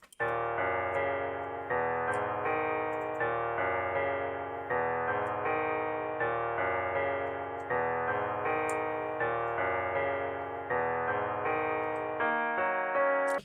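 A 160 BPM music loop from a loop pack, arranged in FL Studio, plays alone as a dense, steady melodic pattern with a repeating rhythmic tick running through it, its phrases cycling evenly at a constant loud level.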